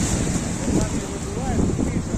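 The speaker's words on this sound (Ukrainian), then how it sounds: "Море шумне таке в цей день було." Rough, steady surf and wind noise roar throughout on a pebble beach near Pescara, Italy, with the sea washing continuously near the microphone and no clear talking.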